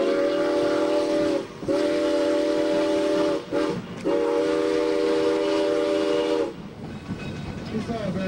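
A tourist train rolls on rails at Virginia City, with loud, close horn blasts in several bursts over a rumbling clatter of wheels.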